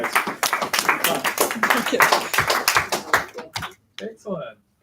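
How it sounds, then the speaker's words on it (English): A class of students claps hands together in a burst of dense, quick claps lasting a few seconds, then the sound breaks off into brief talk. "Let's do a clap, guys."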